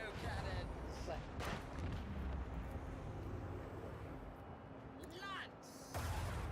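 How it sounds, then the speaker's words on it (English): Macro cannons fire in the Rogue Trader video game, booming in a few heavy blasts over a constant low rumble of battle noise, faint overall. "Commence the symphony of macro cannons!"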